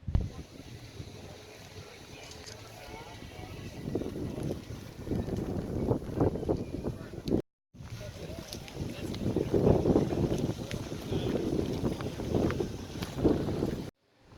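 Gusty wind buffets the microphone outdoors at a vehicle museum event in Wetaskiwin, Alberta, producing loud uneven rumbling bursts that rise and fall, with a brief dropout midway.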